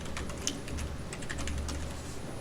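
Computer keyboard typing commands into CAD drawing software, a quick run of light, close key taps at an even, steady pace, with no voices.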